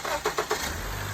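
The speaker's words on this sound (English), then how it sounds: "Give it a start, man. Give it a whirl." Acura TSX engine with a newly installed cone intake cranks in three quick bursts, then catches and settles into a steady low idle, close and fairly loud.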